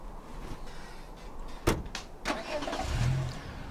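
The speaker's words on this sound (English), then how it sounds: "Good car noise." A car engine rumbles amid sharp thuds like doors closing, then the engine swells briefly louder toward the end.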